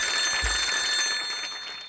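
A telephone rings out with a bright, steady electronic tone held for about two seconds, loud and close with no voices over it.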